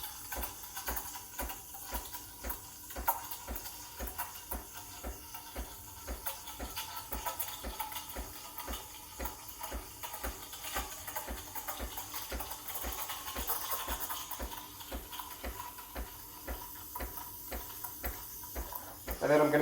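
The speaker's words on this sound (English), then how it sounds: "this sound means I'm injecting air into the milk." Breville Barista Express BES870 steam wand injecting air into milk for a latte: a steady, close, airy hiss with a faint rhythmic ticking that runs throughout and swells slightly at the end.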